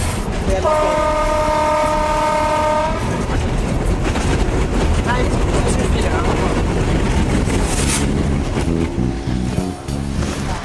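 A locomotive train in Thailand rumbles loudly and continuously with rail clatter, and horn tones sound near the start and again toward the end, while voices are faintly present beneath the noise.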